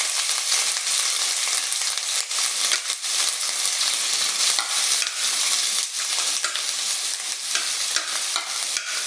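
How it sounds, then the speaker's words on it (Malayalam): Crushed ginger and garlic frying in hot ghee, a loud, dense and continuous crackling sizzle close up, with small flutters of spatter throughout and no voices. "നമ്മുടെ നെയ്യൊക്കെ ചൂടായിട്ടുണ്ട് അതിലേക്ക് നമുക്ക് ചതച്ച് വെച്ച ഇഞ്ചി വെളുത്തുള്ളി ഇട്ട് കൊടുക്കാം"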